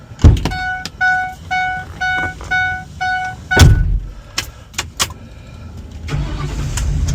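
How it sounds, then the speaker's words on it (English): A car is started in a parking lot after its door is opened and shut: a loud door thunk, a run of electronic chimes, another heavy thud, then the engine catching and settling into a low idle rumble near the microphone. "I'm gonna start my car."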